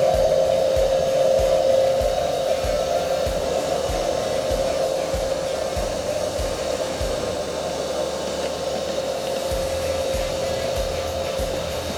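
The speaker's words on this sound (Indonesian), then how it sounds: "bisa menggunakan ini, alat penyedot debu" Vacuum cleaner sucking dust off a CNC router machine, a steady loud whining motor drone held for the whole stretch with faint rubbing and knocking underneath, close by, no talking.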